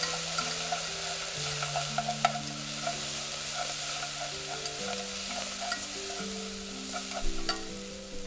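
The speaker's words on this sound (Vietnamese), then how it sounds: "tiếp tục phi vàng thơm hai nguyên liệu này" Scallions and ginger fry in a pan with a splash of fish sauce, a continuous soft sizzle with occasional stirring clinks and scrapes, close and fairly quiet, with no voices.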